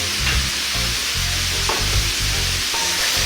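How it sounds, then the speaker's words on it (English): Pork pieces for curry sizzle in a pan with salt, turmeric and chili powder while being stirred, a steady close frying hiss broken by soft scraping strokes. "We're going to stir this for just like 30 seconds or so, just kind of mix it in there."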